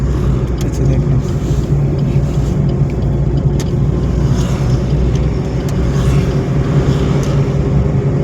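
A car on a driving lesson gives a loud, steady engine rumble with road noise, heard from inside the cabin and unbroken throughout.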